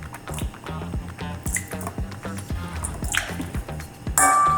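Beef broth is poured into a stir-fry sauce, giving a close series of wet drips, glugs and squishy splashes in an uneven rhythm, ending in a brief louder rattle.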